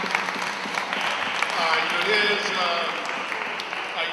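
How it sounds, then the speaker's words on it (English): Steady applause from an audience at an NAACP meeting on economic development, with a voice faintly audible underneath the clapping throughout. "Let's give our chairman a round of applause for putting together this distinguished guest panel."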